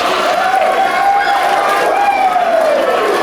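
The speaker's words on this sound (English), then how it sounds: "The crowd definitely approves" A wrestling crowd at the Aftermath pro wrestling show in Kansas City roars and cheers steadily, a loud, continuous wash of voices from the arena with a rising shout carried over it.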